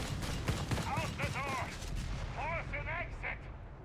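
Rapid bursts of MG42 machine gun fire in a Company of Heroes 3 battle, with repeated gunfire cracks over a dense battle din and shouted voices in the mix.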